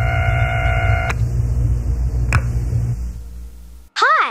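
Electronic phone tones from a Berenstain Bears computer game as 911 is dialed: a steady layered tone cuts off, a brief click follows, then a short warbling electronic chirp closes it over a low hum.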